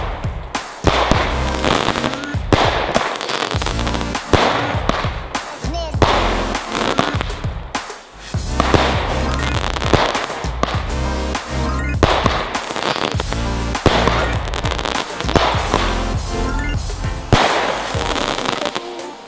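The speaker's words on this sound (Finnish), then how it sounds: "Nyt me tuetaan toi nitropurkki ja ammutaan se." A Nitropurkki firework launches in rapid loud bangs and crackling bursts, a dense barrage that runs almost without pause, with voices heard in between.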